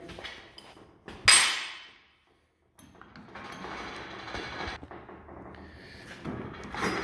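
Metal vise receiver sliding out of a welded trailer hitch-style mount on a workbench: a sharp metallic clank, a brief pause, then a sustained grinding scrape of steel on steel.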